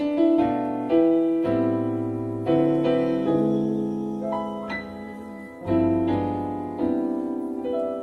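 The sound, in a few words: thirteen sharp eleven chord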